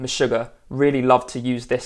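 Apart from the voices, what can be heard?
No everyday noise stands out behind the speech.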